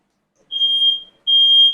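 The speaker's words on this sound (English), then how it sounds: "we just have to switch off the smoke alarm" Two shrill, piercing beeps from a smoke alarm set off by kitchen cooking, loud and close, each lasting under a second with a short gap between them.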